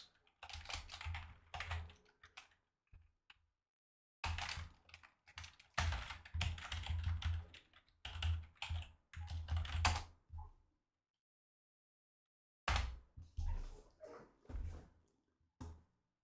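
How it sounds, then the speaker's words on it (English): Clattering keystrokes on a European computer keyboard, close and crisp, coming in rapid bursts separated by short pauses and one longer silent gap, with no talk. "Fucking European keyboards."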